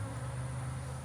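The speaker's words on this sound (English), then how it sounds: "tons of bees returning with bright orange pollen" Honey bees swarm around a hive being removed from behind house siding in Cleburne, Texas, making a dense, steady buzzing hum up close that carries on unbroken.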